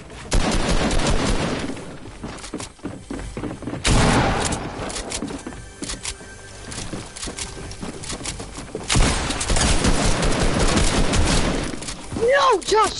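Rapid bursts of gunfire in the game Fortnite crackle loudly in dense volleys with brief pauses, under excited voices of players talking over the shooting.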